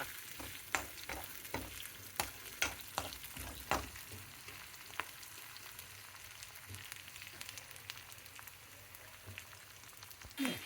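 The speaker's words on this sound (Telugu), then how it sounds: "తాలింపు వేగిపోయిందండి." Tempering of chillies sizzles and fries in a pan for a dal made with chukkakura. The sputtering is faint and steady, with sharp crackling pops clustered early and occasional stirring scrapes, and no speech.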